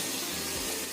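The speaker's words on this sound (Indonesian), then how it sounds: "Kita goreng kacangnya sampai matang ya," Two handfuls of peanuts frying in hot oil in a home kitchen while cooking a snack, a steady close sizzling hiss with no talking over it.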